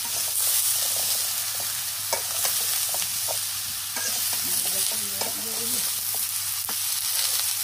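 Vegetables and stalks fry in a hot pan with a continuous, loud sizzle. Scattered scraping and clicking stir sounds cut through the hiss throughout.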